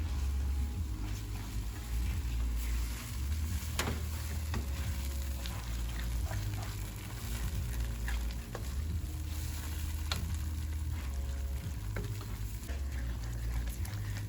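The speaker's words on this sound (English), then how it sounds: "you're gonna keep stirring this until the cheese is melted" Melting cheese being stirred in a pan on a low flame for chicken and shrimp pasta, a continuous soft sizzle with occasional scraping and clinking of the spoon against the pan.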